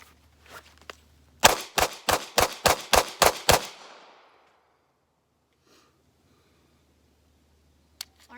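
Several loud, sharp gunshots fire in quick regular succession from an S&W 500 revolver at a shooting range, followed by a long near-silence and one faint distant shot near the end.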